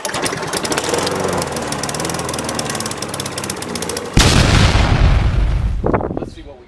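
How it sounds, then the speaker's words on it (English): A primed lawn mower engine that had quit earlier is pull-started: a rapid rattling clatter for about four seconds, then a sudden loud close-up roar that holds briefly and fades out. "Let me follow up on the lawnmower that allegedly blew up."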